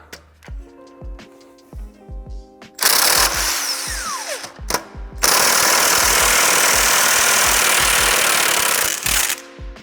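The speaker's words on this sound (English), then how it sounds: "I will get my impact wrench out and it should pop right off" An impact wrench hammers loose a crank puller on a bicycle crank. Short ratcheting clicks and taps come first, then loud sustained bursts of rapid hammering, a short break, and a longer final burst, all close up and with no talk.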